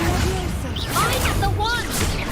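Swishing magical whooshes with bright whistling streaks from casting the Incendio fire spell in Hogwarts Legacy, repeated several times over a dense, steady game soundscape, with a voice faintly underneath.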